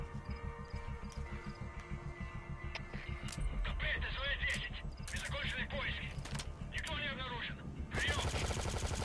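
Gunfire from an unsuppressed gun with a worn-out suppressor in a video game: rapid bursts of loud shots over running hoofbeats and game noise, the shooting denser near the end, with a voice talking at times.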